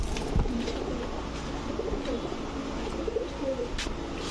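Gola pigeons, several pairs kept together, coo softly in low, rolling murmurs against a steady background hiss, the calls faint and fairly close.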